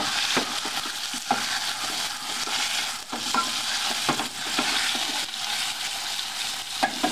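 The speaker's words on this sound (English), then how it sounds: "You fry all that off a little bit, fry it all off." Carrots, bay leaf and celery leaves fry in a pan with a steady, close hiss of sizzling oil, broken by the occasional scrape and knock of stirring.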